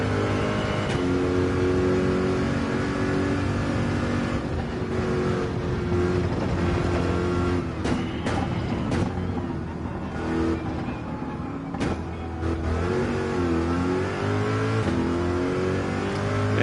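A Corvette C7 Gr.3 race car in Gran Turismo 7 races at Le Mans, its engine note climbing and dropping through repeated upshifts and downshifts, loud and continuous with no talking.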